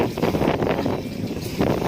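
Strong gusting wind at the sea in Surigao during Typhoon Kabayan, near large fishing boats, a steady loud roar with surging buffets blowing across the microphone.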